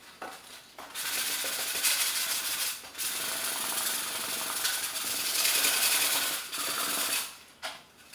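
Sanding down the nose of a foam RC plane to round it, a steady loud scratchy rubbing that runs in long strokes with short pauses between them.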